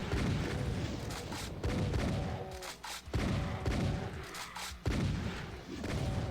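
Gunfire in the video game Doom: repeated heavy blasts and booms at a steady pace, loud and close, heard alone without talk.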